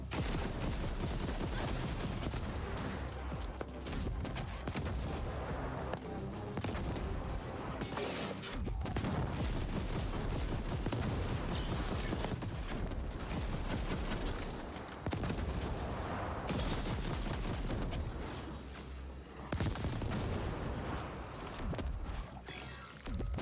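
Repeated mortar fire in the video game The Ascent: a long, dense barrage of thumping impacts and crackling gunfire, loud and chaotic throughout, with occasional short dips between volleys.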